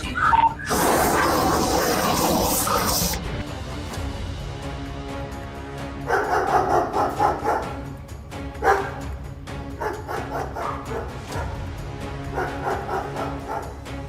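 Caught on security camera, dogs bark loudly in sharp, repeated bursts of woofs and yips with short pauses between them, close and forceful against background noise.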